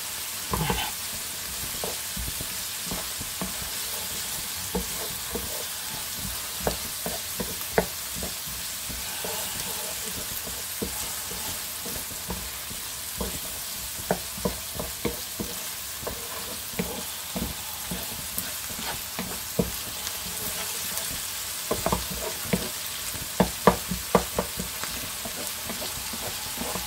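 Mixed vegetables and rice fry in a hot pan beside swordfish, a steady dense sizzle running throughout with frequent scraping clicks from continuous stirring, close and fairly loud.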